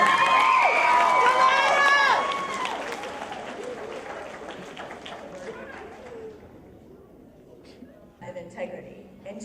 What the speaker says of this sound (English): Let's clap it up for Janiyah.